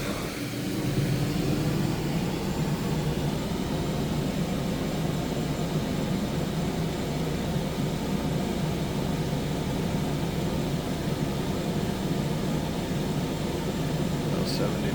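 A Furrion Chill Cube 18k RV air conditioner on a Thor Outlaw, running in turbo mode with the dump vent open, gives a loud, steady roar of rushing air that stays constant throughout.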